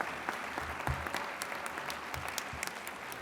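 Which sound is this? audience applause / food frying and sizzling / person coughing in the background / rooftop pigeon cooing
audience applause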